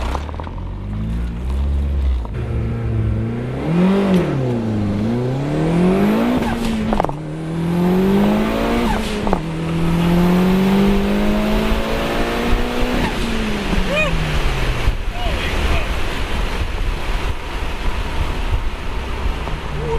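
A 500 all-wheel-horsepower DSM car accelerating hard through several gears, its engine note climbing and dropping with each shift, loud and close for most of the run before fading toward the end with little else heard.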